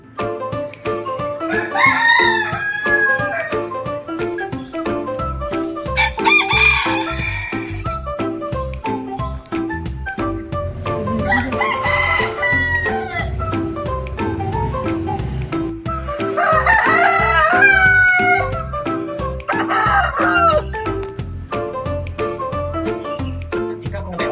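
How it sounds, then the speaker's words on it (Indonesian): Roosters crow loudly several times in succession, long rising calls separated by short pauses, with clucking and a faint jingling in between. "Berikut dokumentasi ayam yang kami peroleh."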